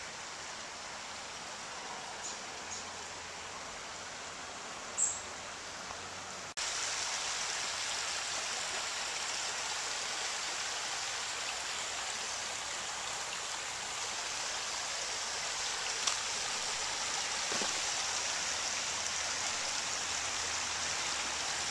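San Pablo Creek flows as a steady, broad wash of running water with no break in it, heard close and filling the air. Near the start, the level steps up a little.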